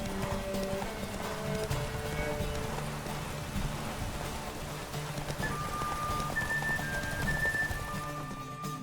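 Horse hooves clip-clopping at a fast gallop during a race in The Witcher 3, steady and fairly close beneath game music with sustained tones, with no speech.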